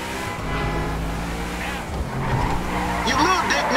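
A car in the video game GTA 5 drives hard with a loud revving engine, then its tires skid and squeal near the end, with game voices underneath.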